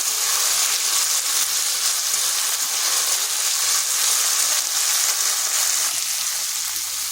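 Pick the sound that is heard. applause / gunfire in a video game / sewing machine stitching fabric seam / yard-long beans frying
yard-long beans frying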